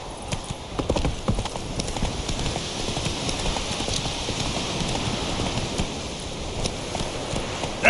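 Roach's hooves beat out a loud, even clip-clop gallop in The Witcher 3, close up and steady from start to finish, with a faint rain-like hiss underneath.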